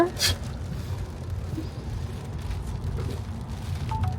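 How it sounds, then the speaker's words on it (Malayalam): Steady rain hissing on surfaces in the border village of Baarle-Nassau, a soft continuous wash with occasional louder drips, heard fairly close throughout. "അയ്യോ, മഴയാണല്ലോ"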